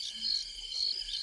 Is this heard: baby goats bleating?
no